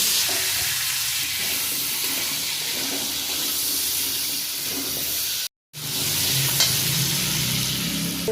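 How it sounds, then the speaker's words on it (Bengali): Potatoes and green chillies fry in a pan after the greens, giving a loud, steady hiss of hot oil with stirring noises and a short silent break midway. "এখন আলু আর কাঁচা লঙ্কাগুলো দিয়ে দিই। তারপর ভাজা ভাজা করে নেব।"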